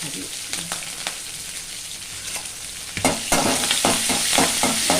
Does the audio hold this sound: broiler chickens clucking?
no